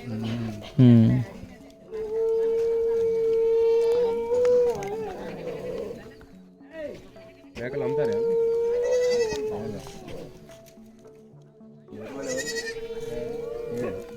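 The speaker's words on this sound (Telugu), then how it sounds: "ఓన్లీ ఈ గొర్రెలు ఆవులు మీరు మేపుకునేది" Sheep bleat repeatedly in a Chenchu tribal village in the Nallamala forest. The drawn-out cries come in bursts amid other farm animals while people talk nearby.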